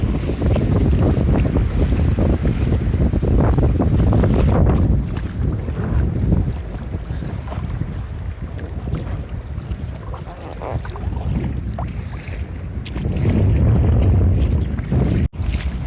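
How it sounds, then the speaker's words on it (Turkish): A small boat taking on water rides rough, heavy waves near a rocky island lighthouse, with strong wind buffeting the microphone in a loud, continuous roar of wind and water throughout. "Çok su aldık ve dalgalar çok fazlalaştı."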